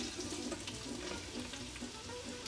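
Onions frying in hot oil in a home kitchen, giving a steady, fairly quiet sizzle with soft crackle that runs evenly throughout, no voices.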